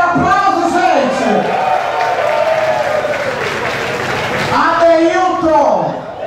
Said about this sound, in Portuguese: Fábio Aurélio, aplauso, gente!